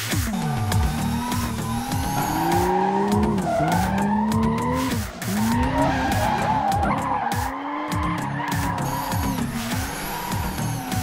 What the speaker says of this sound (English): In many ways, the hardest aspect of controlling a car is when it's drifting.